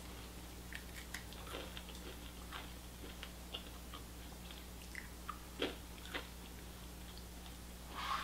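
Someone chews crunchy grain-free cereal, giving soft, irregular crunches and bites close to the mic over a quiet hum, with no talking.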